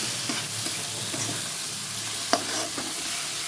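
Paneer curry being sautéed in a pan, a steady close sizzle with occasional stirring scrapes and one sharper clink, no talking.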